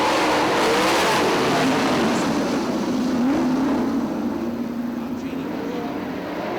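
A pack of 410 sprint cars roars at Fremont Speedway as the green flag drops, engines loud and sustained, rising and sweeping past, with a race announcer talking over the noise.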